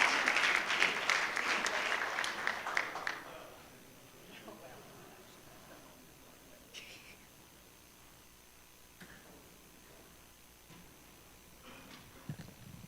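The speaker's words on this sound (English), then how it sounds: "Let's give another round of applause to Spalding High School." Applause for Spalding High School at a school board meeting swells loudly for about three seconds, then tapers off into scattered claps and faint room noise.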